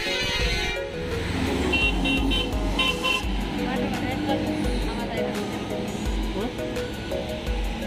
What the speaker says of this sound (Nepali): हर्नै हर्न, जसले आउँछ यहीँ हर्न बजार जान्छ।